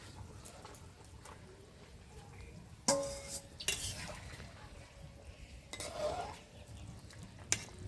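Fried fish and cauliflower tipped into a simmering potato curry in a pot, with a few sharp clanks of utensil against metal, some scraping and stirring, and quiet sizzling, fairly faint overall.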